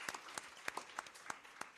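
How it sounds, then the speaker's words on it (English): A small audience at an inclusive urban future panel claps in sparse, scattered bursts, a handful of distinct sharp claps at a distance, fairly faint. "Big round of applause."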